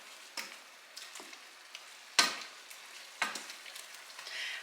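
Sourdough-recipe food in a pot is stirred in a quiet kitchen, with a few scattered scraping and clinking strokes of a utensil against the pot and soft hissing in between.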